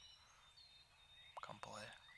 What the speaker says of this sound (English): heard that gobble